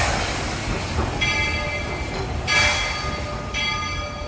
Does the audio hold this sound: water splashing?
no